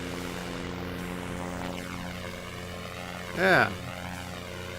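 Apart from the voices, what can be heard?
airplane engine during liftoff in video game SimplePlanes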